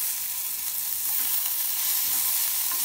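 Spices and tomato fry for a dosa filling, giving a steady, dense, close sizzle with no pauses and no voices.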